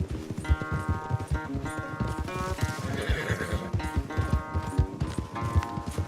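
Horses racing in Red Dead Redemption 2: rapid clip-clop hoofbeats with snorts and a whinny, loud and close, with no talking.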